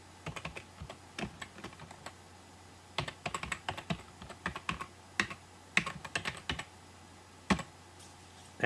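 Bursts of close, crisp keystrokes on a computer keyboard, typing in short irregular runs with brief pauses between them against a quiet room hum.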